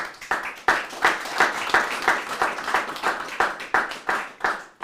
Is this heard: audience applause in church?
yes